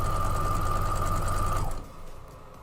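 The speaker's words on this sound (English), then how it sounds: "Once I get these sewn up, I'm going to sew up the other 8, go in the opposite direction" A sewing machine stitches quilt block pieces with a steady, rapid mechanical whir for about two seconds, close and clear, then stops abruptly.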